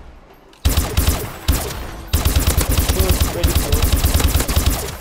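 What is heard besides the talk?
OHM gun firing in video game Call of Duty: Advanced Warfare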